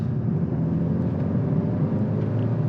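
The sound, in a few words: Kia K5 GT Line 1.6 turbo engine in sport mode, Active Sound Design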